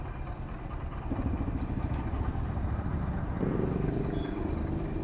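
A motorcycle engine runs steadily nearby with a low, throbbing rumble; its pitch steps up slightly partway through as the bike is put into gear, then holds.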